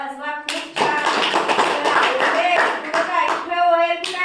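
A burst of hand clapping, dense and rapid, sits between stretches of voiced sound, likely a children's group applauding during a shapes lesson.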